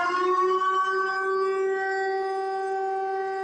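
Civil defense sirens wail on the site of the former AZF chemical factory in Toulouse during a memorial ceremony, a steady sustained tone carrying loud and even across the whole stretch with no voices over it.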